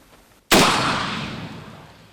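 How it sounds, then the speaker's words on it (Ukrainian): One sudden loud gunshot blast during a border guard military exercise breaks a near-silent background, its roar decaying slowly over more than a second. "Постріл!"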